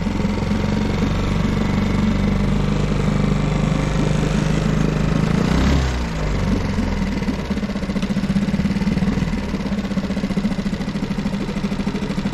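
A Suzuki 6 horsepower outboard motor mounted on a kayak idles steadily and up close, a smooth continuous putter with a brief dip in the middle before it settles back to an even idle.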